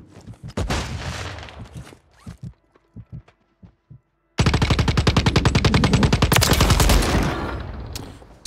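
A Holger 26 light machine gun fires in Warzone: loud short bursts at first, then a few scattered single shots, then a long, sustained stream of rapid automatic fire.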